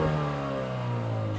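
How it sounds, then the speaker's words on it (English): A Mini Countryman engine revs and then eases off, its exhaust tone sliding steadily downward with faint popping on the overrun, heard close and loud for a brief moment. "it's also like an exhaust popping on the overrun"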